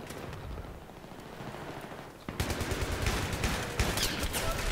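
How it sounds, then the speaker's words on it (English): Rapid in-game gunfire from Battlefield 3 during a Conquest Domination match, a quieter stretch giving way to a dense, loud burst of automatic shots over the final half. "I shot at him."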